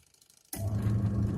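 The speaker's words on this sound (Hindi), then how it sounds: "देखिए वॉशिंग मशीन मेरी चलने लगी।" A Godrej semi-automatic washing machine switches on after a quiet moment and begins running with a steady, loud low mechanical hum and churning rattle that continues to the end.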